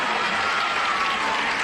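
Studio audience on a game show breaking into steady, dense applause, a continuous wash of clapping hands from a full room with no voices over it.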